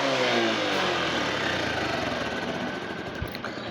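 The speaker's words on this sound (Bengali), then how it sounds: "বাইক স্টার্ট করে রাখছি কারণ যেহেতু শর্ট ভিডিও, কেননা একটা বাইকের ইঞ্জিনটাই মেইন জিনিস দেখার মতো" Engine of a 2016 Bajaj Platina ball-pin model motorcycle runs and revs, a loud, steady, close mechanical drone that settles from a higher rev to an even idle-like hum, with no talk over it.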